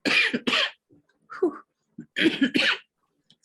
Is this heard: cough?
yes